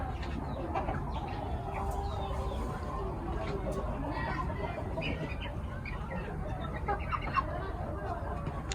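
Light Sussex chickens, a large breeder bird among a flock, cluck steadily under general farmyard bustle, with other fowl calling nearby and people talking in the background.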